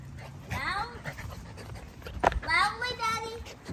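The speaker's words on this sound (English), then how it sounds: "God, these are pretty dogs, man." A Lilac Tri dog pants close by in quick rhythmic breaths, with a brief whine and faint voices in the background.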